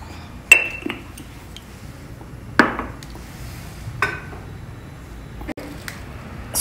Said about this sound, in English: Now mix all these well together.